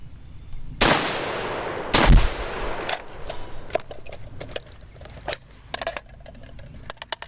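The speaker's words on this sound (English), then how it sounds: "The shooter then drops to a kneeling position, reloads, and fires 3 more rounds into the body of the target from that kneeling position." Rifle shots fired on a shooting qualification course: two loud, sharp cracks about a second apart, followed by a run of quieter clicks and clatter from reloading and handling.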